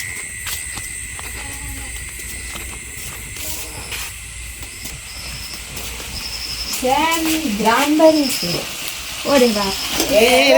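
Malabar spinach (pui shak) cooking in a pan, a steady sizzle and hiss with occasional stirring, while a person talks over it in the second half.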